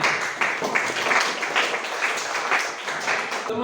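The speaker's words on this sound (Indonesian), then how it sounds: "Terima kasih semuanya. Tepuk tangan." A vocational school class claps for its teacher at the end of a lesson, a fairly loud, continuous burst of many hands applauding together.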